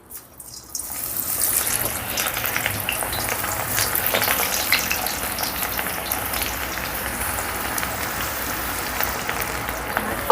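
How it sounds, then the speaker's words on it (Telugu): Cabbage pakoda batter drops into hot deep-frying oil and bursts into a loud, steady sizzle with crackling bubbles that keeps going close by, no voices over it. "ఆయిల్ వేడైందండి ఇప్పుడు మన క్యాబేజీ పకోడీ వేసేసుకుందాం"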